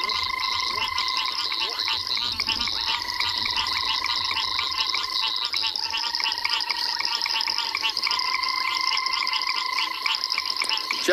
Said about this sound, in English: There's some cacos calling a very high-pitched trilling sound.